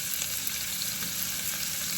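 Onions fry in a pan with a dense, even sizzle that stays close and steady throughout, with no voices.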